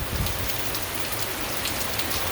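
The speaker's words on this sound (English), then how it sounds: "The rain rates are really getting intense." Heavy rain pours onto a street in southeast Virginia, a dense, steady hiss of countless drops hitting pavement and collecting water, loud and close with no voices.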